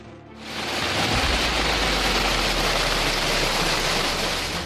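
A heavy hailstorm drops large hailstones around 1.4 inches across, striking cars and surfaces in a loud, dense, continuous roar that swells within the first second and stays steady throughout.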